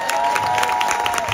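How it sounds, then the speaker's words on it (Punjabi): Crowd applause with some cheering for a performer at a university Jashan festival event at GNDU, a dense steady wash of clapping throughout the short moment. "ਪਹਿਲੇ ਲਈ ਤਾੜੀਆਂ ਮਾਰੋ"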